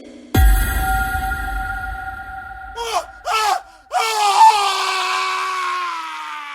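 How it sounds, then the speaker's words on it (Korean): A man's scream on waking from a nightmare rings out in short, loud bursts over an eerie sustained tonal drone, followed by ragged, strained cries that fade into the humming background. "진호는 비명을 지르며 잠에서 깨어났다"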